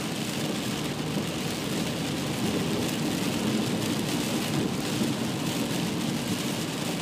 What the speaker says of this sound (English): it is really pouring raining